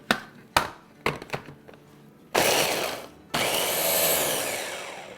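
Red jalapeño and green serrano chilies are pulsed in a kitchen grinder. A few sharp chopping knocks come first, then the motor roars twice in loud, steady whirring bursts, close up, with no talking.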